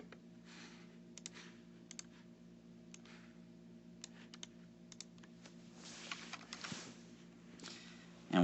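Keypad of a graphing calculator being pressed, with a scattered series of light, quiet clicks in uneven bursts over a faint steady hum.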